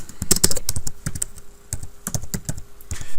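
Rapid keystrokes on a computer keyboard, close and fairly loud, arrive in irregular bursts with short pauses between runs.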